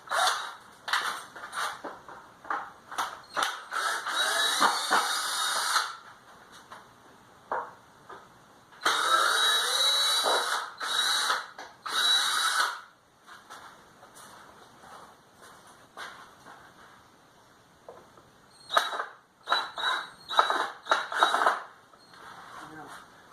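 Bursts of power sanding on car parts in a workshop, several loud runs of a few seconds each with pauses between, and a person speaking briefly in the gaps.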